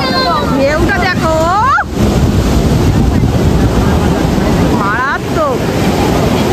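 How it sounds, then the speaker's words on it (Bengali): Ocean waves wash onto the beach at Puri amid strong wind buffeting the microphone, a loud continuous roar with gusty noise, while whistling tonal sounds rise and fall over it. "ঢেউটা দেখো,"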